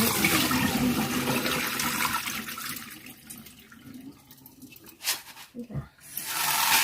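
Rinse water from washed mung beans pours off in a loud rushing splash that tapers away, followed by a few sharp knocks and splashes and another swell of running water, heard up close.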